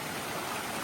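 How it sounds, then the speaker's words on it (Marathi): Water rushes at a village waterfall as a steady, dense broadband roar with no breaks, close and moderately loud, with no voices. "पाण्याचा आवाज बघा."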